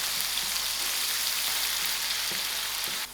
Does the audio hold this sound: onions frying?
yes